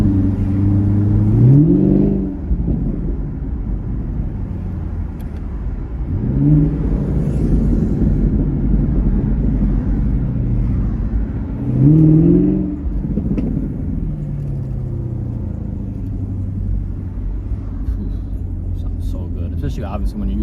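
A 2017 Chevrolet Camaro 1SS with a 10-speed automatic accelerates hard, its engine rising three times as it climbs through gears over a steady loud drone. Someone appears to talk beneath the engine.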